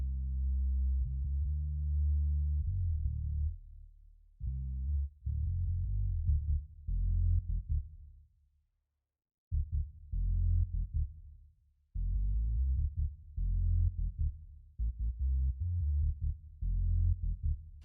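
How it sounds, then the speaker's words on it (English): Programmed synth bass line, deep and smooth with sine-like tones, playing a rhythmic pattern of sustained and stepping notes that drops out briefly midway, alone and fairly quiet. "now a programmed bass part is coming in versus the bass that we had before"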